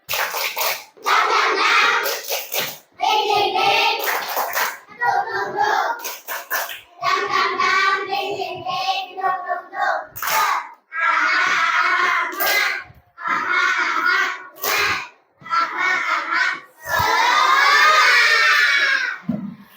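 A class of second-grade children loudly perform the rhythmic 'tepuk semangat' clapping chant in bursts of shouted words and claps, ending in a sustained group cheer.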